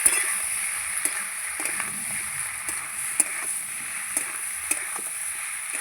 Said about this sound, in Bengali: এবার আমি কষাবো মশলা আর পেঁয়াজ কলি আলু একসঙ্গে ভালো করে কষাবো